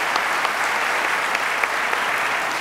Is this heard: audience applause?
yes